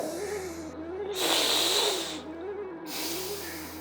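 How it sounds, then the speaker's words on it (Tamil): A person doing sitali yoga breathing draws a long, hissing breath in through a folded tongue, pauses, then begins another airy inhale, close and soft over a low background hum. "நாக்கை மடிச்சுட்டு ரெண்டு இடுக்கொழியும் மூச்சை உள்ளடுங்க"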